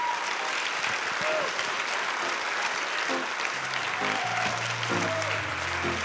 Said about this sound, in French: L'ensemble vocal Strassapella que l'on raccompagne sous vos applaudissements